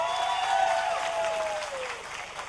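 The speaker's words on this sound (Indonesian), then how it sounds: "Boleh tepuk tangan." Crowd clapping at an outdoor political campaign rally for Muhaimin Iskandar with university students in Jember, Indonesia: dense, steady applause filling the whole stretch, with a sustained tonal whine gliding downward through it.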